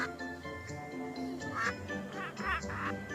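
Ducks on a farm pond in The Sims video game quack repeatedly in clear nasal bursts over steady background game music.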